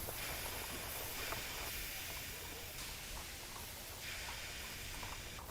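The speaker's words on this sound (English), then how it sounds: "Now that's what you call a real train." The Rocket steam locomotive running in Railway Empire 2, a steady hissing rumble of steam and rolling wheels with periodic brighter chuffing surges, constant level and no speech.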